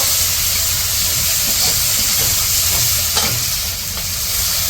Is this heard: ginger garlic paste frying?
yes